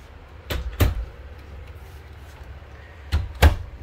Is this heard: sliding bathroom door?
yes